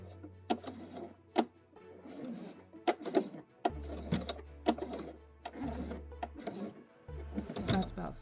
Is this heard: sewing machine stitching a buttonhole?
yes